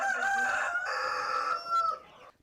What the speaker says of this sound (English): she also has about 200 chickens